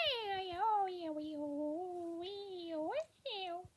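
A pet cat meowing indoors, a series of long, drawn-out, close meows with short pauses between them.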